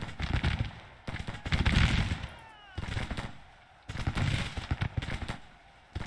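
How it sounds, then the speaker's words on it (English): A coffee mill gun in the Civil War strategy game Grand Tactician rattles out repeated bursts of rapid fire, alternating with short lulls, moderately loud amid battle noise, with a voice talking between and over the volleys. "Coffee mill gun still ripping away in the background"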